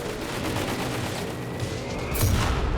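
Mortar airburst and scattered gunfire in the real-time strategy game Company of Heroes 3, a dense steady rattle of shots with a heavier burst of explosion near the end.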